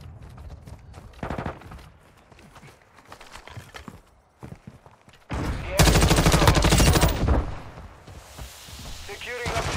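Heavy automatic gunfire in Call of Duty Modern Warfare 2 multiplayer, loud sustained bursts with footsteps and scattered shots, while in-game voices call out objectives over the action.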